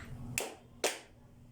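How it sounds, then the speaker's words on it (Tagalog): A classroom gives two sharp claps, the first at about a third of the way in and the second just past the middle, each a short crisp burst over a quiet room. "Bigyan natin siya ng 2 palakpak."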